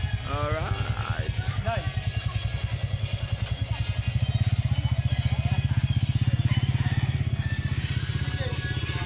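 A Honda Click limited edition motorcycle engine idles near the mic with a steady low putter that deepens and strengthens partway through, while a voice briefly sounds over it at the start.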